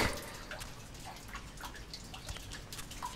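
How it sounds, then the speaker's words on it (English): Water drips in the game Die Young, a steady patter of small droplets against a faint, noisy background, with no one talking. "Just drip, drip, drip."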